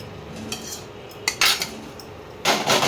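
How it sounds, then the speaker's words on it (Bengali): Spoon mixing fried mushroom and potato into a cooking masala in a pan, heard as bursts of metallic scraping and clinking, loudest toward the end, over a quiet sizzle. "এবার মশলার সঙ্গে এটাকে ভালো করে মিশিয়ে নেব।"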